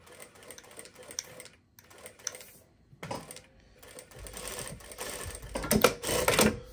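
A Brother S7180A direct drive lockstitch industrial sewing machine stitches in short bursts with clicking mechanical pauses, then a faster, louder run of rapid stitching toward the end.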